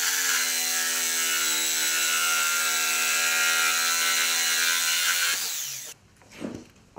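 A power saw whines loudly and steadily as it cuts a piece off a length of wood while a homemade boot remover is built, then winds down with a brief clatter at the end.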